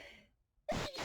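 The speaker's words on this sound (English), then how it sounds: "Oh, I got to sneeze." A single sharp sneeze bursts out close and loud after a short breathy intake and a moment of near silence.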